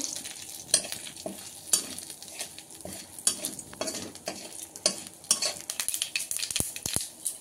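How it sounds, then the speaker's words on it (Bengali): Seeds fry in hot oil while being stirred, making a close, busy sizzle with frequent clinks and scrapes of a utensil against the pan. "শস্যটা আবার ফুটে উঠবে, একটু ভেজে নেব।"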